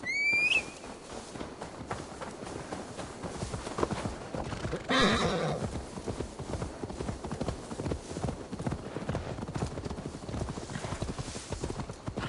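A horse in Assassin's Creed Valhalla whinnies sharply at the start, then hooves clip-clop in a steady walking rhythm close by, with a second brief burst of noise midway.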